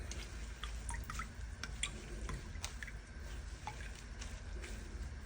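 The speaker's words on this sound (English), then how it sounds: "We're going to squeeze all the juices from the coconut. Make sure all that milky water comes out." Grated coconut being squeezed by hand to press out its milky juice, heard as scattered close drips and small wet trickles over a quiet background hiss.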